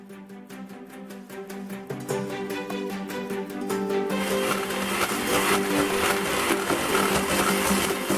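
Two large eggs being beaten in a bowl for anise cookies with a steady whirring electric mixer or beater that grows louder and busier after a few seconds, running close and continuous with no talk.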